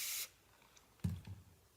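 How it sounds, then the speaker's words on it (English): A short, loud hiss from a spray can of gold paint applied to a wooden chest side table opens the clip, followed by quiet handling and a couple of soft knocks. "I'm not spraying tons on there"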